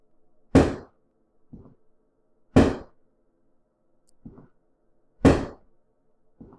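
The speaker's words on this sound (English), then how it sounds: "fireworks going off, but you know, it is close to the 4th of July" Distant fireworks going off near the Fourth of July: three sharp, loud booming bangs evenly spaced a few seconds apart, each followed by a faint echoing thump, with no talk.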